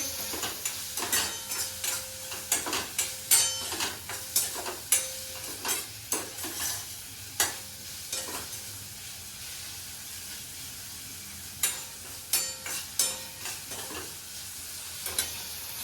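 Puffed rice bhel being stirred with chutney in a bowl, giving a series of soft, dry rustling scrapes in irregular bursts, with short pauses between them and one longer quiet gap partway through.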